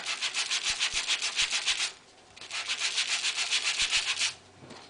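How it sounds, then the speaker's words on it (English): Shiny cardstock being sanded by hand, with quick, close, rhythmic back-and-forth scratching strokes in two steady bursts separated by a brief pause. "if there is, I'm going to sand a little bit more in that area"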